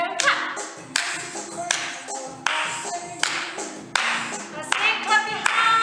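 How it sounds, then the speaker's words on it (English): Hands clap in time during a children's under-the-sea dance warm-up, a group of close, crisp claps in a steady beat over music. "That's it, clap your hands."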